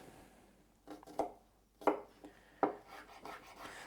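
Garlic being chopped on a cutting board for a bacon pasta dinner, three distinct knife strikes spaced about a second apart against faint background rustle, with no talking.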